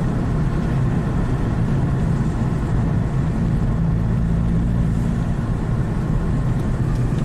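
A car with a DSG transmission drones steadily and loudly at low pitch throughout, with a slight change in tone partway through where a gear shift may occur; no one speaks.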